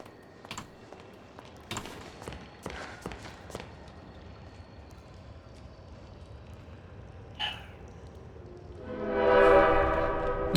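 A subway train arriving in the video game Bendy and the Dark Revival, with scattered clicks and footsteps first, then a rising rumble and a bright, screeching approach swelling loudly at the end.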